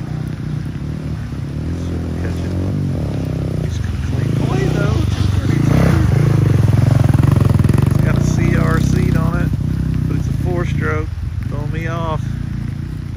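Honda racing motorcycle on a short course, engine revving and roaring at close range with rising pitch sweeps through the gears, a voice talking over much of it.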